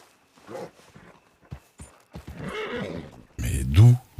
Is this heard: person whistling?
no